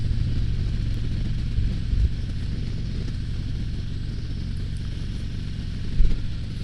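A 2022 Harley-Davidson CVO Street Glide motorcycle rides along with a deep, steady engine rumble, close and continuous with wind noise, and a couple of brief louder bumps.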